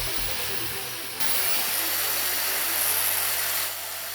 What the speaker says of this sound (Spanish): Vamos a conectar también una amoladora angular que funciona a 220 voltios